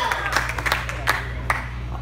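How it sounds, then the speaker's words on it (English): Audience applause at a live poetry slam event during the Fringe, steady patter of clapping with a few sharper claps standing out, moderately close and continuous for a couple of seconds. "I always find it awkward to applaud for the numbers, but I have to get you to do that"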